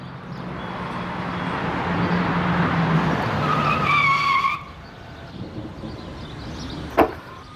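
A motorbike rolls up with a rising whine, slows and cuts out to near quiet, followed by a single sharp click shortly after.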